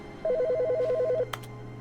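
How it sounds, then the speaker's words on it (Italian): A single clear burst of a warbling electronic phone ring, about one second long, in the video game The Stanley Parable, followed by a short click over a steady low hum. "Sta suonando il telefono."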